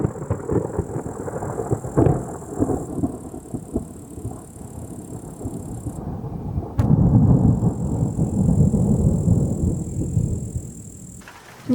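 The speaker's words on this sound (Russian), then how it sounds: "Гремит. Может, обойдет стороной?" Thunder rumbles low and long over steady rain in the countryside, with a sharper crack partway through followed by a heavier, louder roll.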